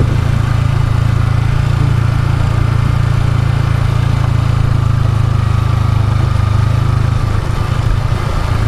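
A motorcycle engine idles close by near a beach, a loud, steady low rumble with an even mechanical throb that runs unbroken throughout.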